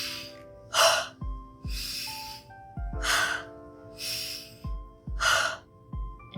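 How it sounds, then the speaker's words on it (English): Deep breaths taken with an audible sound: a sharp breathy inhale and exhale repeated in a steady rhythm about three times, each breath loud and close with quieter pauses between. "She told me to do a deep breathing, but with a sound."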